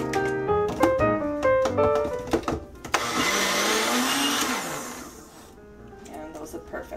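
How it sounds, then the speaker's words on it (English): A small blender whirs as it purees sweet potatoes into baby food, running loud and steady for a couple of seconds in a kitchen, with clinks and talking before and after. "now we're going to finish blending up these sweet potatoes"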